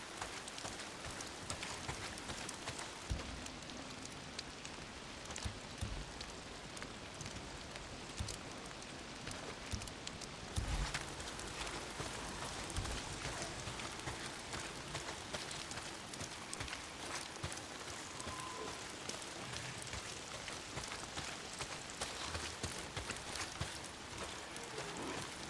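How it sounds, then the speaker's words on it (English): Steady rainfall in the video game Days Gone, a dense, even hiss of drops pattering on surfaces with scattered sharper spatters, faint and continuous throughout with no voices. "Oh, damn rain. If it's not the freaks, it's the goddamn rain. Why is it always raining?"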